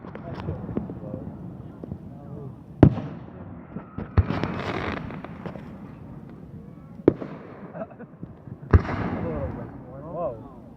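Canada Day fireworks bursting in a series of sharp, loud bangs with crackling tails, spaced a few seconds apart over a steady murmur of crowd noise and voices.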